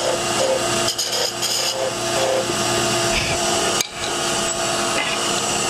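Parting tool roughing out beads on a wood lathe, a steady close scraping and rasping hum of the cutter on the spinning wood blank, continuous with a brief dip and sharp catch near the end.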